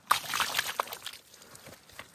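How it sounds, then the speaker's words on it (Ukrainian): Water sloshed over a pork carcass at the head and neck during butchering, a few short splashy gushes near the start and then thinning trickles and drips, fairly faint and close, with no talking. "Чуть води, смив сюди."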